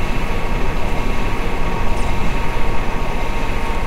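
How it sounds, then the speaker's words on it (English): An ICE2 high-speed train in Train Simulator 2013 on the Hamburg–Hannover line slows down, giving a steady, loud rumble of wheels and running gear that stays continuous throughout with no voices. "Alright, train is slowing down."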